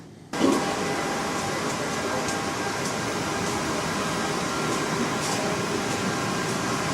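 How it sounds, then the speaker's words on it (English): An Objet Connex 500 3D printer runs with a steady, loud mechanical hum and whir that kicks in after a brief quieter moment and holds evenly throughout, with faint ticks on top and no talking. "And here we have the Object Connex 500 machine."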